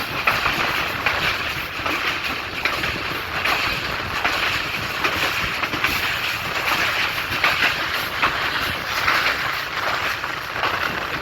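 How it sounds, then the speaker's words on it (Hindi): A passenger express train runs on its tracks near a station on the line toward Rawalpindi, giving a steady broadband rumble with wind noise throughout and no voices. "हमारी ट्रेन संजानी रेलवे स्टेशन चला रही है।"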